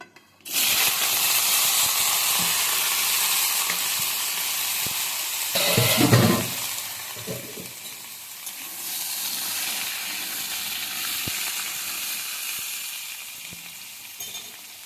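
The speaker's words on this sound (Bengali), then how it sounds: "এবার আমি দিয়ে দিচ্ছি সিদ্ধ করে রাখা আলু" Boiled new small potatoes dropped into a pan of fried, blackened mustard seeds, hissing with a steady, close sizzle that surges briefly in the middle before settling back.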